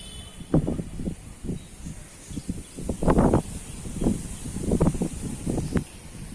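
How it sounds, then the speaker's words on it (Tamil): Wind gusts through a home garden of rose bushes and other plants after Cyclone Nivar, rising and falling in rustling surges with a few louder bursts, close to the microphone. "பயங்கரமாக காற்றடிக்குது"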